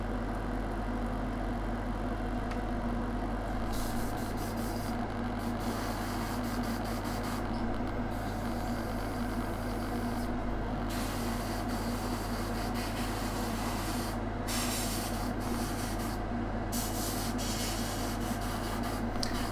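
An airbrush sprays paint thinned with a touch of thinner for soft shading on a historical miniature bust, giving a steady, continuous hiss with a constant low hum under it throughout.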